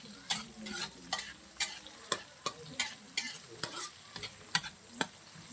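Red chilies fry in a pan with a spatula scraping and stirring in a regular rhythm, each stroke a sharp clack over a light background sizzle.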